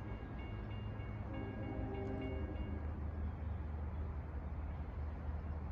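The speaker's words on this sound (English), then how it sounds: "512 approaching eastbound is train 658, Hunters Point Avenue, Port Jefferson" An eastbound Long Island Rail Road train to Port Jefferson approaches, heard from a distance as a faint, steady rumble with a few tonal squeals or horn-like tones early on.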